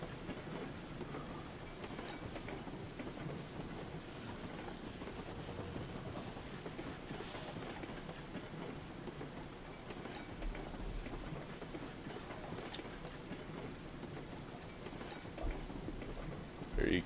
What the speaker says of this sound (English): You can hear the rain setting in.